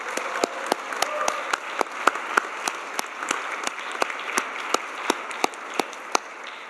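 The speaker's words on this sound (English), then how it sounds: "let's thank them too with a round of applause" A crowd at a college commencement ceremony applauds steadily for several seconds, with a few sharper individual claps standing out above the continuous patter.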